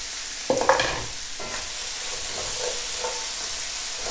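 Stock cubes stirred into a hot pan with a steady sizzle of frying food, scraping stirring strokes near the start, then a continuing hiss without speech.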